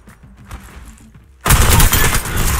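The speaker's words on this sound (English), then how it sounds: "Shot fired, and they're hitting me." Gunfire in an Apex Legends match erupts after a quiet moment into a loud, dense burst of rapid shots that continues to the end.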